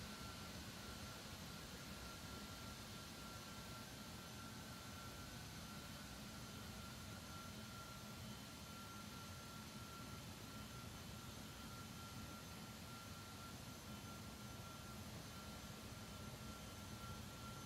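Jet engines of a Boeing 777-200ER winding down on the ramp in the X-Plane 12 flight simulator, a steady broadband roar with a constant high whine, held at an even level throughout with no talking.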